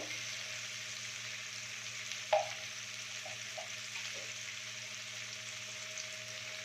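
Spices tipped one by one into a pan of oil with two potatoes for a Kolkata street food dish, giving a steady soft sizzle with a brief clatter partway through, no voices.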